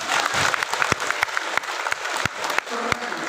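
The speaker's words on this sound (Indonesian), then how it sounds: "Tepuk tangan untuk panitia." Audience at an Islamic religious gathering in Hong Kong clapping for the organizers, a sustained crackle of many hands with occasional sharp individual claps, moderately loud.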